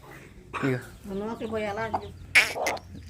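A hen and her chicks cluck in short bursts close by as rice is about to be scattered for them, with a person speaking over the calls.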